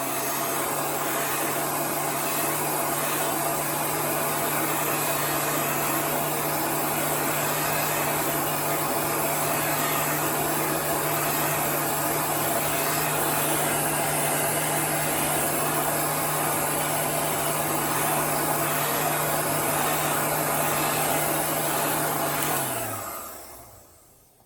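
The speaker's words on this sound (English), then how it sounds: "We're going to dry this and then we're going to heat set it" A heat tool dries and heat-sets paint on a gingerbread shadow box decoration, blowing with a loud, steady whirring hum for about 23 seconds before switching off and winding down.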